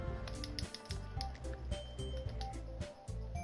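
Rapid clicking of keys on a computer keyboard, close and fairly quiet, with irregular bursts of keystrokes and faint sounds in the background.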